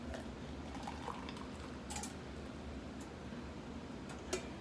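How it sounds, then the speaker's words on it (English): Coffee being poured into a cup in a home kitchen at breakfast, a soft continuous liquid trickle with faint bubbling and a few light ticks and clinks, quiet and close with no talk. "then I'm gonna pour us up a nice cup of coffee."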